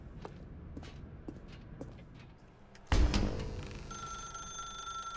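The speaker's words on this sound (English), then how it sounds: "Now pick up the phone" A telephone bell in The Stanley Parable: Ultra Deluxe rings out with a sudden loud clang and keeps sounding steadily, preceded by soft in-game footsteps.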